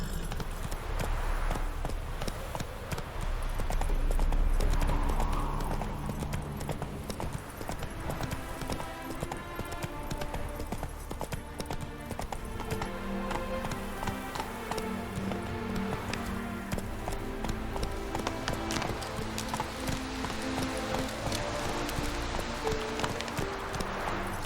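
Roach the horse gallops in The Witcher 3 video game, with a steady rapid clip-clop of hooves that continues throughout and sits under a dense bed of game music and ambience.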